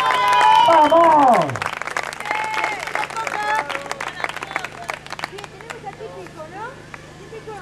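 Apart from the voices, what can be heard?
audience applause at a circus event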